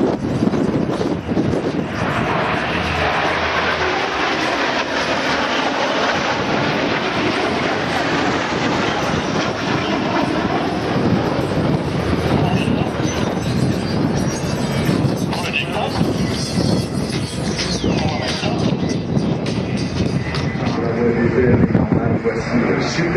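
Aircraft in formation at the Le Bourget air show pass overhead as a loud, continuous roar that lasts throughout, with a commentator talking over the engines.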